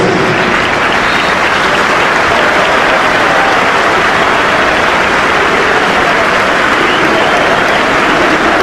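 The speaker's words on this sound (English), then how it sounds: "join us in a period of applause that will start and end on the referee's whistle" A full stadium crowd at Craven Cottage claps steadily through a period of applause before a Fulham v Chelsea Premier League match, forming a loud, dense, unbroken roar of hands that runs the whole stretch.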